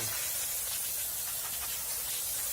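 A steady aerosol spray of cleaner onto a 2006-2010 Ford Explorer front brake hub hisses continuously at close range, an even, breathy rush with no pauses.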